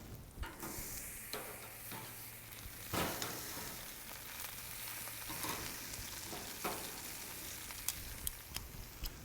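Flat iron steaks sear over direct heat on an SNS kettle grill, giving a steady close sizzle with occasional sharp pops and crackles, and no talk.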